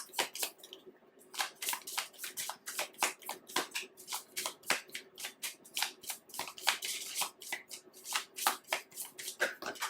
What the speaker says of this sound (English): I'm gonna just get a couple of major arcana cards.